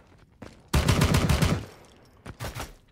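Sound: gunfire from bots in the video game War Gun

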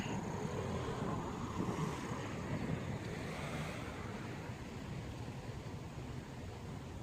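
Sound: wind in a park

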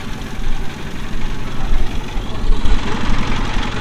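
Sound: boat engine starting and running

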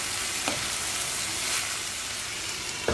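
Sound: stirring sauteed long beans in a pan

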